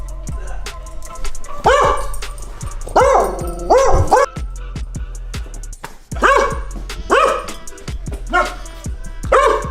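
A dog barks loudly and close by in repeated clusters of sharp yips and barks, with brief pauses between bursts and no talking over them.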